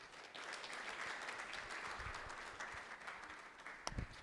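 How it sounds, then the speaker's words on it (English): Conference audience at a business event claps steadily in a continuous, even wash of applause, moderately loud, with a couple of low thumps near the end. "Can we keep clapping till he goes back to his seat?"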